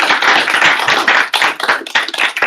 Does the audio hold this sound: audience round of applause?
yes